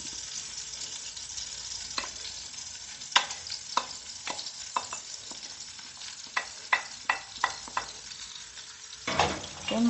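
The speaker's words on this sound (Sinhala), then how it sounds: "ඊට පස්සේ මේකට අපි අපේ කෝන් ටික ඇඩ් කර ගන්නවා. බඩිරිඟු ටික ඇඩ් කර එකතු කර ගන්නවා." A spoon stirs a corn, cheese and mayonnaise mixture in a pan, with soft sizzling underneath and a series of distinct scraping clicks against the pan, irregular at first and then quicker toward the end.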